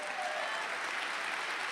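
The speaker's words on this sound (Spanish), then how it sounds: "¿Cuántos le pueden dar un fuerte aplauso al Señor?" Church congregation applauding the Lord during a Spanish-language sermon, a dense, steady wash of many hands clapping together, fairly loud and continuous with crowd noise and no distinct voices.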